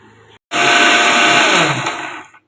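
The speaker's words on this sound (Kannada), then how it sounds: "ಸೊ ಇವಾಗ ಇದನ್ನ ನುಣ್ಣಗೆ ಪೇಸ್ಟ್ ಮಾಡಿಕೊಂಡು ಬರ್ತೀನಿ" A mixer grinder grinds egg sambar masala to a fine paste, whirring loudly after a brief pause, running at full speed for about two seconds before cutting off.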